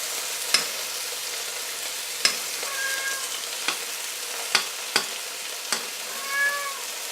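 Steaks sizzle in a pan while being basted with butter, a constant hiss marked by sharp spoon taps against the pan and two brief, high warbling tones.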